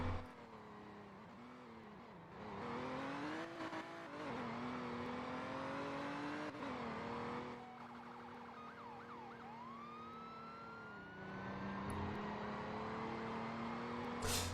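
A police Tahoe in the Liberty County video game accelerates and cruises with a steady engine drone that rises and falls in pitch, while a siren wails over it and gradually fades.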